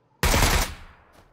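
A single loud, close burst of gunfire in the PC battle royale game PUBG, sharp onset with a roughly half-second blast followed by a fading tail.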